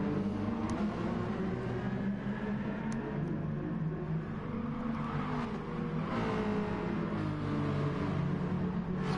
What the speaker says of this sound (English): The cars come ploughing down the field over the back there.